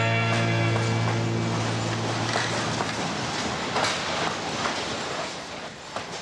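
A train rumbles along the Gold Rush line railway to Bennett with a steady clickety-clack of wheels over rail joints and a low sustained tone fading early, loud and close throughout with no voices.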